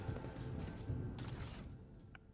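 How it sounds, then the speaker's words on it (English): Mechanical creaking and grinding of an elevator mechanism in the video game WH40K: Rogue Trader, quiet and continuous, with a brighter scraping burst partway through and small clicks near the end. "Ah, it was an elevator,"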